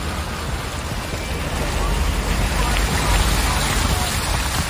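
Rain pours onto a flooded bypass road near Barghat police station in Nagaon, Assam, as a steady wash of heavy hiss that swells a little partway through.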